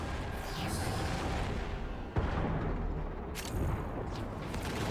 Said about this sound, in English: Picking up huge subterranean explosions below ground